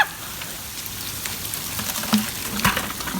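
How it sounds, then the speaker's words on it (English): Hail falls in an April hailstorm, a steady dense patter like heavy rain on surfaces, with a few sharper nearby impacts standing out near the end. "I've never been in a hailstorm"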